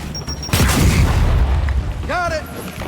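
A Gears 5 frag grenade goes off in a single loud, booming blast with a deep rumbling tail. Game voices shout briefly afterward.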